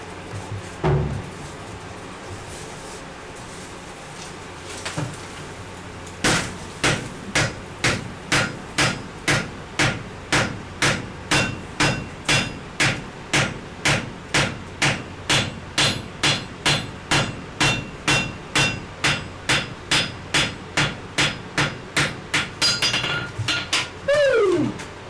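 A sledgehammer pounds a hot wrought iron billet to forge-weld a cheek piece, a long run of loud, evenly spaced ringing blows after a short pause and one early strike, with a fading metallic clatter at the end.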